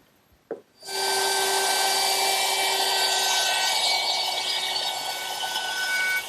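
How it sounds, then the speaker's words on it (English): A router fitted with a dovetail bit cuts wood along a template for the male part of a dovetail joint in a chair seat. It starts with a click, then spins up into a loud, steady, high whine that lasts to the end of the clip. "Using my router, which is equipped with a dovetailing bit"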